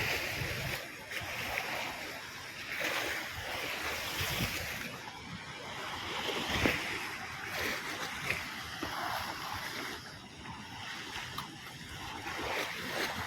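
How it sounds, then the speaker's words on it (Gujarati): Waves churn and wash across the Kadi Dam reservoir in a continuous broad rush, with gusts of wind buffeting the microphone throughout and no clear voices. "એકદમ દરિયાના મોજા ઉછળતા ને એવું લાગે છે."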